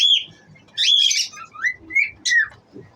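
Lovebirds in a breeding colony screech and chirp loudly in quick, overlapping bursts, several sharp calls in a row, close by.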